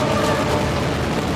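Continuous loud booming and crackling from high-altitude New Year fireworks at a long display in Kaohsiung, Taiwan, dense and unbroken for the whole span with no voices.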